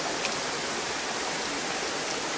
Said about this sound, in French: Je soulève le gravier, je remonte en même temps avec la passoire.